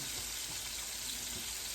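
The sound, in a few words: chicken deep frying in oil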